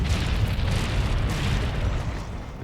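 In Monster Hunter World, a weapon fires with a deep, booming blast that rolls on as a loud, sustained rumble for a few seconds, with no voices.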